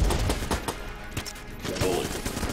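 Rapid gunfire bullets in Enter the Gungeon, a dense burst of sharp shots in quick uneven succession, loud and close, with brief talk.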